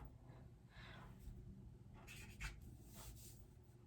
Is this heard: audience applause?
no